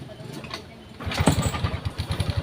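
A scooter engine fitted with a new battery cranks and catches after a second of quiet, then settles into a steady, close, rapid thumping idle.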